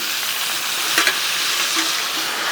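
Greens with a little grated ginger are tossed in a hot pan, giving a bright, continuous close sizzle and hiss with a couple of faint scraping stirs and no voices.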